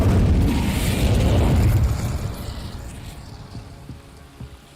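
An Incendio fire spell from a Harry Potter video game erupts with a loud burst and roaring whoosh of flame that swells, then fades over several seconds into faint crackling.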